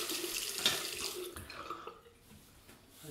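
A Fine Marvel double-edge razor is rinsed under a running tap, the water hissing and splashing close into a sink, briefly interrupted, then resuming faintly with no voices.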